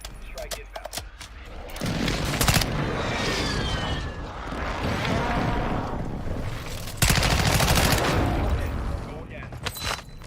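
Airstrike and gunfire in the Warzone video game: rapid bursts of shots and a run of heavy explosions rumbling across the scene, loud and sustained, with a voice talking over it.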